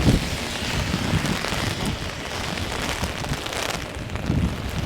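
Heavy rain pours down in Halifax, a steady dense hiss gusting with strong wind that buffets the microphone throughout.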